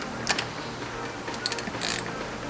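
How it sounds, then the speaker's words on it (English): A ratchet clicks in a few short bursts, close and fairly quiet, as the spark plug is tightened on a Yamaha YZ125 engine during assembly. "when tightening these spark plugs, I like to tighten them a little bit to crush our crush washer there"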